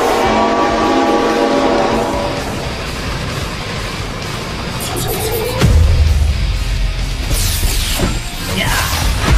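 A train rumbles loudly nearby with a horn blast early on, followed by heavy clanking and rolling noise from the railcars, with no speech.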